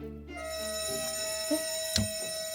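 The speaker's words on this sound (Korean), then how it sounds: "어디선가 화재 경보기 소리가 들려오기 시작을 하는데요" A steady electronic fire alarm tone rings continuously, fairly faint, with a couple of soft knocks and a short clatter over it.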